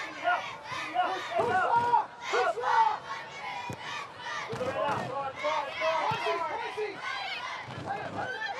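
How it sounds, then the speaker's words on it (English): A stadium crowd at a Western Sydney Wanderers versus Newcastle Jets A-League football match shouts and chants continuously, with loud voices rising and falling throughout. "Great to hear the crowd encouraging the Wanderers on, generating a bit of atmosphere at Wanderers Football Park."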